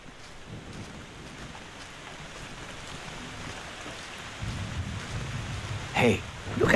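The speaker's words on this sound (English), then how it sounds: "I hope it doesn't rain that much." Rain falls steadily in the Little Misfortune video game, a soft hiss that swells slightly toward the end with a muffled thunder rumble, under faint speech.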